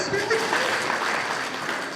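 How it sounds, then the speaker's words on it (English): An audience claps for a teacher at a school event, a steady dense patter of hands filling the whole moment with voices mixed in. "Give her a clap."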